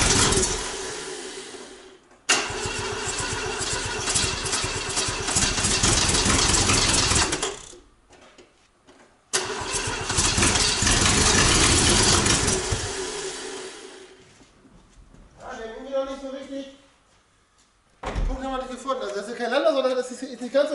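An Opel Corsa A engine runs after standing for 16 years in a barn at an abandoned site. Long steady stretches of loud engine noise rise with throttle and are broken by short pauses, with German-speaking voices in the gaps.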